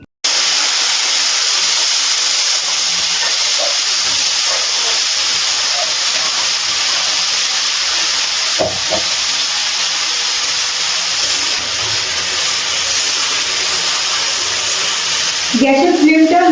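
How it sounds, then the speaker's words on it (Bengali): Jujube berries frying in hot oil in a wok over a low to medium gas flame, a loud steady hiss and sizzle throughout, close up, with occasional faint clinks. "কুলগুলো তেলের মধ্যে 3 থেকে 4 মিনিট মতো ভেজে নিচ্ছি"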